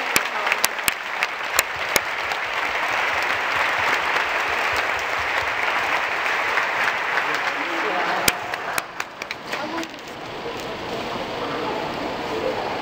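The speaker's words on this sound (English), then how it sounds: "can we give a round of applause to all of the Pathway to Science?" Applause from the audience at a Pathways to Science orientation at Yale University, steady dense clapping that fills most of the stretch, then thins and eases toward the end.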